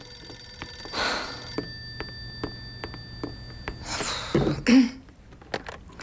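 An old-fashioned telephone bell rings in short bursts in a house, with a throat-clearing and a cough near the end, close and fairly loud.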